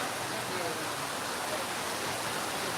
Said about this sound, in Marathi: खूप मोठ्या प्रमाणात पाऊस सुरू आहे इथं डेरीवर सुद्धा खूप मोठ्या प्रमाणात पाऊस पडतोय